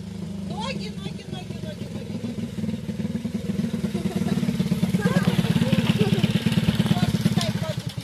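A motorcycle ridden by children idles and revs nearby with a steady low putter that grows louder partway through, while adults and kids talk over it.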